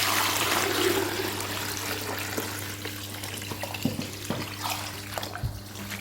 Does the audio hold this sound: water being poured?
yes